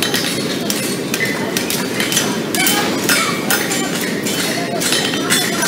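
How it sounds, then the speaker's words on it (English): A farrier's round-faced hammer strikes a horseshoe to form the toe bend at a farrier competition, giving repeated sharp metallic clinks at an uneven rhythm over steady shop noise, with a voice talking throughout. "Using the round face of his hammer for the toe bend."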